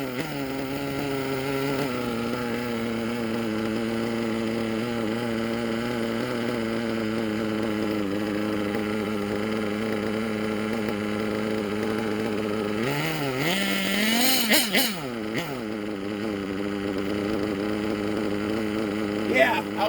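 A nitro engine in a Hyper 7 RC buggy idles with a steady, buzzy drone, rises briefly in pitch with a couple of quick revs, then settles back to a low, even idle.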